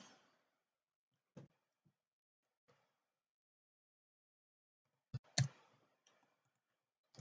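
Keys tapped on a computer keyboard while entering a 2FA code: a few sparse, isolated clicks, then a quick cluster of louder taps near the end, close and quiet against near silence.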